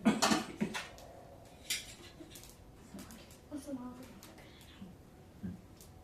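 A metal plate and spoon clink and clatter during a Satyanarayan Katha puja ritual, with a few sharp bright knocks at the start and lighter scattered taps after, heard near and under ongoing talk and chanting.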